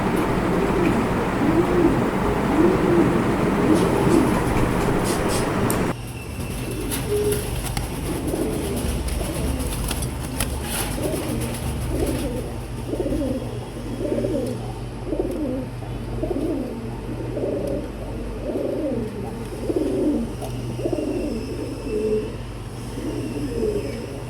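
A male Lakkha pigeon coos in a steady run of repeated phrases, close and clear, with a louder burst of noise in the opening seconds.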